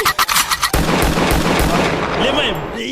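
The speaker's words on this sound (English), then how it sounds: "I feel like we're abusing this gunshot now." A sharp gunshot sound effect fires in a rapid burst of cracks, then booms into a long rolling blast that fills the rest of the clip, loud and close.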